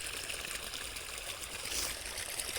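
Irrigation water running steadily through a farm field, a continuous broadband rushing and trickling flow at even loudness with no voices.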